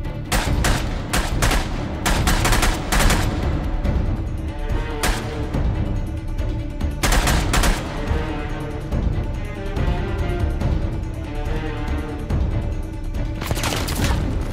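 Rapid bursts of gunfire crack through a dense, constant battle din in the video game Uncharted: The Lost Legacy, with clustered volleys near the start, middle and end and booming blasts beneath.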